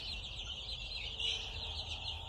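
Young Marans chickens, hatched at home, clucking and peeping softly in a garden pen, a faint continuous chatter of small birds with no talk.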